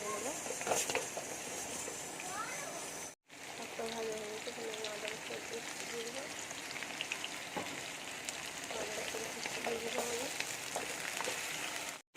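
Cut potatoes sizzle in hot oil with a steady, dense crackle that continues throughout, while a voice talks over the frying.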